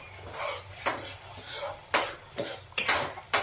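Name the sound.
sautéing masala in a pan for patavadi rassa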